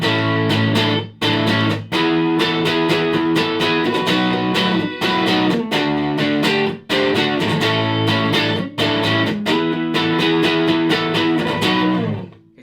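Electric guitar played with a crunchy overdriven tone through a Yamaha THR10 amp with the reverb switched off, loud dry strummed chords with brief gaps between phrases and no talking.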